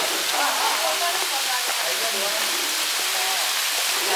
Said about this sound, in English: See, there's the waterfall.